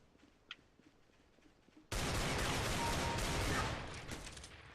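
Pump-action shotgun fire in Counter-Strike: Global Offensive during a match against bots: quiet game ambience, then a sudden loud blast of dense gunfire at about two seconds that holds, then fades slightly.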